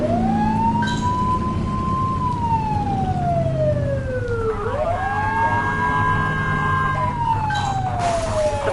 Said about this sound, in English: Get behind them and flip the siren and make them pull over.